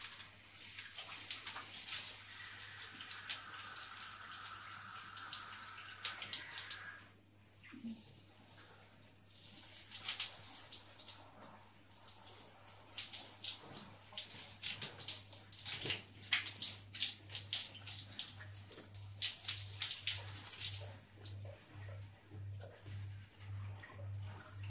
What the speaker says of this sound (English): Just gonna rinse the conditioner now.